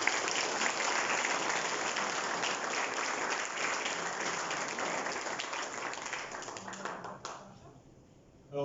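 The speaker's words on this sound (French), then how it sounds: "On applaudit." Audience applause at a book launch in Mauritius, a dense, loud, sustained crowd clapping that fades out toward the end as a voice begins.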